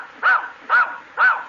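A dog on an old radio comedy show gives three evenly spaced, sharp, close barks, clear and loud with short quiet gaps between them and no talking.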